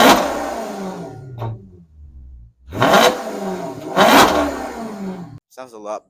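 A car engine revs hard in several loud bursts, recorded at the exhaust tip, roaring close up with pauses between, ending in a short sputtering idle.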